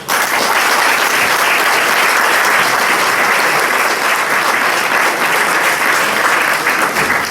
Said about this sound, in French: Je vais vous demander d'applaudir Madame le professeur Valérie Michel.